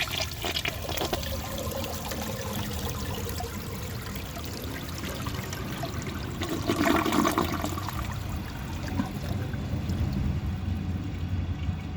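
A 1974 Eljer Sanus low-tank toilet flushing, a steady rushing swirl of water that swells midway and keeps draining and trickling to the end, close and without talk.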